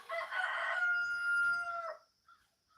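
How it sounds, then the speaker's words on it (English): A rooster crows once, a drawn-out cock-a-doodle-doo with a clear tonal call, followed by a faint short sound and quiet. "you hear that rooster crowing?"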